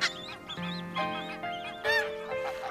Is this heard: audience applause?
no